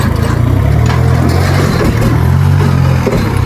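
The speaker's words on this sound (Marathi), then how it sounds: "ट्रॅक्टर तर चालू झालं" An uncle's farm tractor, push-started and now running: a loud, close diesel engine churning at a steady idle, its low throbbing beat continuous through the whole stretch.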